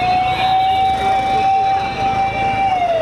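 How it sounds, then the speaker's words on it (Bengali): An ambulance siren sounds outside a national burn institute as ambulances arrive one after another, holding a loud, steady, near-continuous wail with a slight pitch drop at the end. "একের পর এক আসছে অ্যাম্বুলেন্স, বাজছে সাইরেন।"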